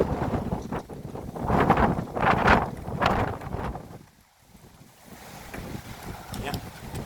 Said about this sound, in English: it's very, very windy. You can probably hear it in the background of the video.